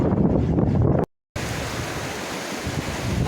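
A fast-flowing river swollen by pouring rain on a coastal walk at Largs, heard as a loud, steady broadband rush of water and rain, briefly cut to silence before resuming.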